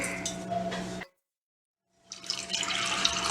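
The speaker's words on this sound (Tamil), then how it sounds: "2 கப் தண்ணி ஊற்றிருக்கேன்." Water pours and splashes into a cooking pot, stops abruptly for a second of silence, then resumes with a fuller rushing sound.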